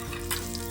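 Bay leaf, whole garam masala spices and a little cumin sizzle in hot oil, a brief close crackling hiss with a slight flare partway through.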